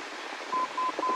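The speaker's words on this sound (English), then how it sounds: "Now, I see in here, you've got a Morse code." Three evenly spaced Morse code beeps, the letter S of the SWB identifier, from an aviation radio navigation beacon, heard during a flying lesson on diversions and position fixing, forming a steady tone over a background hiss.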